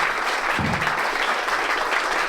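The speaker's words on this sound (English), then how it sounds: "One big round of applause, everybody." An audience at a Bitcoin conference applauds in a steady, dense burst of clapping that fills the whole moment with no pauses.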